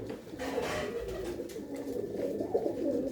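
Pigeons coo softly at a rooftop pigeon loft, with low rolling calls repeating over a few seconds against faint outdoor background noise.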